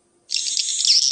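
A recorded swiftlet call plays through a tweeter speaker as a bright, continuous high chirping trill that starts abruptly and carries on alone at close range.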